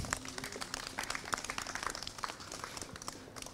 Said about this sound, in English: Let's give Charles a round of applause,